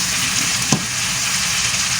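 Chicken pieces for sweet and sour adobo with pineapple frying in a hot pan, a steady loud sizzle throughout with a brief burst as food drops in.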